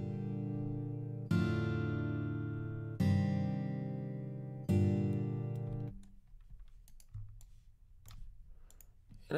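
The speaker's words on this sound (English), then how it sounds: "now we've got our little four chord progression that sounds like this" Four sustained software piano chords play in slow succession, each ringing out fully, followed by quiet clicking.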